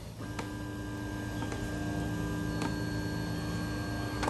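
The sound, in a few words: Tarantula Pro 3D printer homing its Z axis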